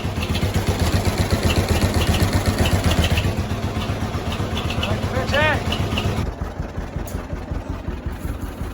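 An old tractor engine runs steadily nearby, chugging in a regular low thumping rhythm throughout.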